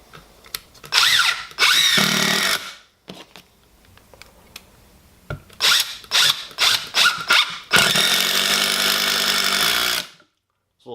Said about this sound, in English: All I have is these 3-inch deck screws. So I'm going to run them into this 4x4